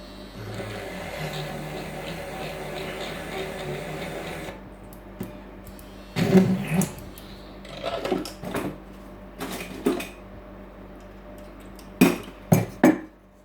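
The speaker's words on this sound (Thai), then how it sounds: "เพื่อนๆก็มาเจาะรูนะครับ" Small drill boring holes in a Buddha amulet casing, heard as several short, sharp bursts with pauses between them after a steadier mechanical hum at the start, close up and moderately loud.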